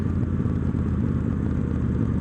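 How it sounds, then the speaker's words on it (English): Victory Judge motorcycle engine compression braking while riding, a steady close low-pitched rumble with a dense pulsing thrum and wind noise, no talk. "very decent compression braking right there"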